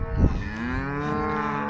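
A cow on a farm gives one long, deep, loud moo close by, a sustained low bellow that holds steady for over a second over faint background noise.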